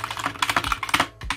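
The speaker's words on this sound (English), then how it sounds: "So you could do some typing" Quick, uneven keystrokes clatter on a keyboard paired with a Samsung Z Fold 6 running DeX mode, a close run of light taps with brief pauses.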